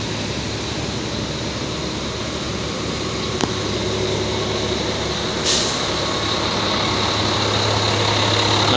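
A bus engine idles steadily in a total traffic jam of Sumatran intercity buses at Torgamba, a loud constant low rumble close by with a brief click and a short hiss partway through.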